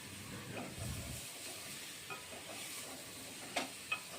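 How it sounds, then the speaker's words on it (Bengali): Large chicken pieces cook with spices in a pot for chicken soup, a faint hiss and sizzle under soft scraping stirs, with a few sharper clinks of the spoon near the end. "এবার এই মশলার সাথে চিকেনগুলো ভালোভাবে কষিয়ে নিচ্ছি।"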